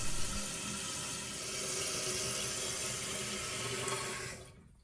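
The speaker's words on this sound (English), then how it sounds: "turn on the water, let the tank fill up" A Kohler toilet tank with a canister flush valve refills after the water supply is turned on, a steady close hiss and rush of filling water that holds evenly, then cuts off abruptly near the end.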